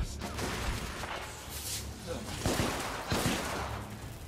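Gunfire in a hard-difficulty firefight in the video game The Order 1886, with bursts and sharp reports layered over busy battle noise, the loudest shots near the middle and end, while a voice talks throughout.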